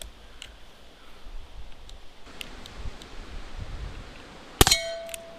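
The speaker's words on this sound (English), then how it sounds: "There we go, there's the cowbell. It didn't make much of a plink" An Umarex Avera airgun pellet strikes a steel cowbell target outdoors, giving one sharp metallic clang with a short ringing tail near the end, after seconds of soft rustling ambience.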